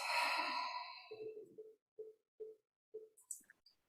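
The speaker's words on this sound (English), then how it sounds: "take a deep breath" A single slow, deep breath drawn in and released as a soft sigh during a calm meditation, close and quiet, followed by a few small breathy puffs and faint clicks.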